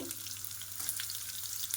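A continuous crackling sizzle of onions frying in hot oil for colocasia kurma, steady and close, with no voices.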